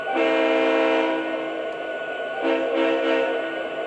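An MTH Premier model Conrail locomotive's loud, steady multi-tone horn blares continuously, dipping briefly before sounding again, with no voices.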